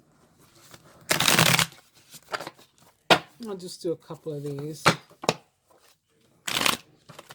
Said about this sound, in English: Let's get back to shuffling.